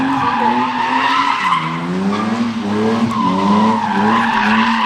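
A car drifts around a track with its tires squealing in a loud, sustained skid whose pitch wavers and slides up and down while the engine drones underneath.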